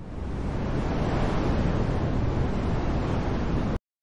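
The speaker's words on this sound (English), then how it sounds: "Whoosh, I'm windy." A steady rush of wind blows for several seconds, broad and whooshing, then cuts off abruptly.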